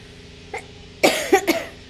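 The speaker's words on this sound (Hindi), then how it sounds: "और खांसी भी हो रही है" A single light cough, then a burst of several harsh coughs in quick succession, close and loud, with no talking.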